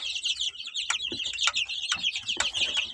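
Fifteen-day-old domestic chickens peep in a busy, overlapping chorus of shrill chirps nearby, punctuated by a few sharp taps and scuffs, with no one talking.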